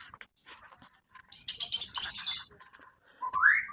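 A white-rumped shama (murai batu) delivers bright, rapid whistled phrases, a dense trilling burst in the middle and a rising whistle at the end, close and clear with quiet gaps between.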